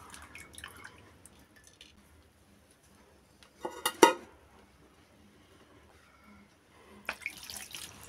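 Chhena (homemade paneer) is rinsed by hand in water, with quiet drips and trickles, then two short bursts of splashing and sloshing a few seconds apart.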